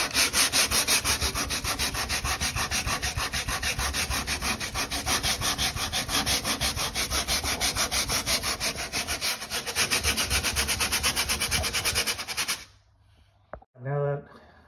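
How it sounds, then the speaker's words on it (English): Sandpaper rubs by hand over builders bog filler patched into a hole in a door, a loud, close, steady back-and-forth scratching that runs for about twelve seconds before stopping abruptly. "I've sanded it back, it's very smooth, there's no lip"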